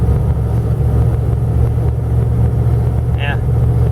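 A 1977 Dodge Ramcharger SE 4WD with a 440 engine and AW100 transmission climbs a hill, its engine droning steadily and loudly up close, with a short squeak near the end.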